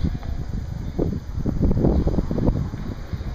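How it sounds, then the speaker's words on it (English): Wind buffets the microphone in low, rumbling gusts that rise and fall throughout, loud and close, with no voices. "it's rather windy today"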